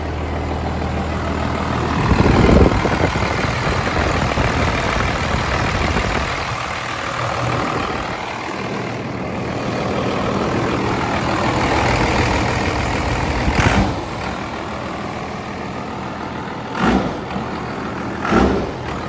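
A straight-piped second-generation 12-valve diesel truck engine idles with a loud, steady rumble, then blips its revs in a few short bursts near the end, heard close with no talking.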